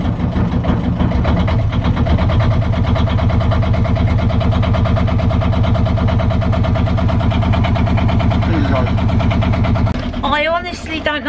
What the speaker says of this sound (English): Right, engine running.